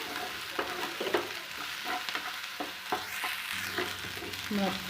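Onions sizzle steadily in a hot pan while a utensil scrapes and stirs at irregular intervals, close up with no talking.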